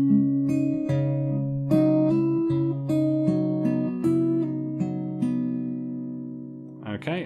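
Fingerpicked acoustic guitar plays a song, a steady rolling pattern of bass and treble notes with chord changes every beat or so, close and clear, ending with a brief pluck.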